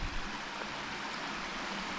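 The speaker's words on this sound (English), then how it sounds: "there's like a little runoff here" Small runoff stream trickling beside a forest creek in Big South Fork, a steady close watery hiss with no voices.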